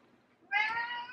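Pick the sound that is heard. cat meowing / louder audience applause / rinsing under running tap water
cat meowing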